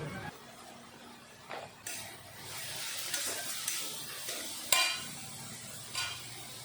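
Spices with turmeric and salt being stirred in a hot pan for fish curry: a low sizzle broken by repeated scraping strokes of a spoon and occasional metallic clinks, close and without speech.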